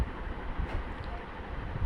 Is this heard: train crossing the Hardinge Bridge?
yes